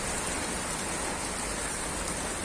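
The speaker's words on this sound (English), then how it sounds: "This is hail, this isn't rain," Hail pours down steadily in Albox, Almeria, a dense, even hiss of countless small impacts that stays loud and unbroken throughout.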